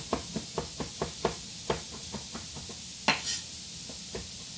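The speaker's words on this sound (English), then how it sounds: "And finish chopping." Steady knife chopping vegetables on a cutting board, a run of sharp, evenly spaced taps close by, pausing briefly, then a few more cuts.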